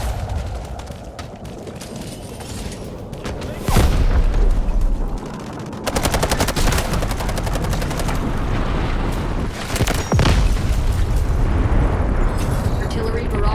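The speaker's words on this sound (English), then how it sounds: "Requesting missile strike on coordinates! Over! Guided missiles launched." Guided missile strikes in the mobile shooter game Delta Force Mobile land as heavy, loud explosive blasts around 4, 6 and 10 seconds over continuous battle noise and scattered gunfire, with in-game radio voice lines heard.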